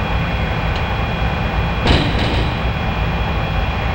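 A JR West 681 series Thunderbird limited express in Densha de GO! Final sets off from Osaka toward Kyoto: a steady rumble of rolling rail noise with a short sharp clank near the middle and faint door or brake hiss.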